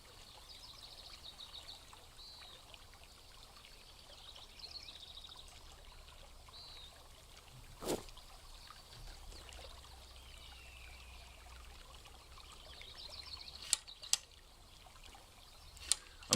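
A deer swims slowly away through a river in the hunting game Deer Hunter 2005, heard as faint, continuous trickling and splashing water with a few soft clicks and a distant bird call.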